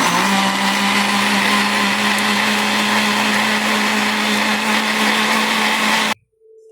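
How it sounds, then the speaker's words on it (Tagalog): Countertop blender whirring steadily as it blends coconut with hot water for coconut milk, loud and continuous for about six seconds before cutting off abruptly. "Blend natin siya sa mainit na tubig."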